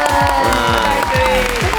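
A studio audience on a Vietnamese TV game show applauds steadily for a departing guest, the clapping running under music and a voice.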